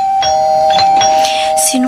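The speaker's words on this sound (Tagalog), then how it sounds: "Ito, merong doorbell." A house doorbell rings with a clear sustained electronic tone, repeated chimes sounding over faint background voices and room noise.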